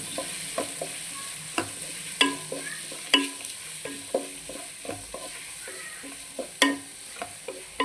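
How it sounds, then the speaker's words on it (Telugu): Thinly sliced onions frying for fish biryani give a steady soft sizzle, while a spoon stirs and scrapes the pan with frequent sharp clinks. "మంచిగా ఫ్రై అవ్వాలండి"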